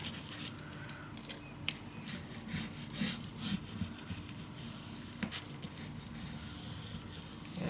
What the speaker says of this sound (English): Alright, burnish this down.